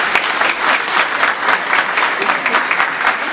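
Wedding guests clap steadily for a bride and groom at a Turkish wedding ceremony, a dense, loud, continuous round of many hands filling the room, with no voices standing out.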